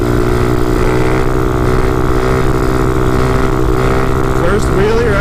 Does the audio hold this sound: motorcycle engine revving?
yes